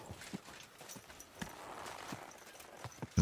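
A horse walks in the medieval video game Kingdom Come: Deliverance II, its hooves clip-clopping in a quiet, irregular rhythm of soft thuds, with a heavier knock at the end.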